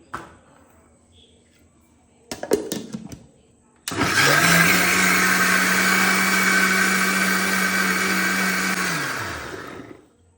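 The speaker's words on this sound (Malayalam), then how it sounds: "ഇനി നമുക്കൊന്നുകൂടെ അരക്കണം അല്ലേ അമ്മ ഒന്നുകൂടെ അരക്കണം" Mixer grinder blending a chili powder mixture, starting up with a loud steady whirring drone that runs about six seconds and winds down, after a few brief clatters and quiet speech beforehand.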